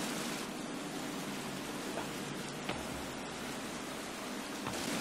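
Steady broadband roar of a waterfall in the survival video game The Forest, a constant loud wash of noise with no breaks and no talking.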